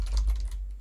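Quick, close keystrokes on a computer keyboard as a SQL query is typed, a short burst of a few clicks lasting under a second.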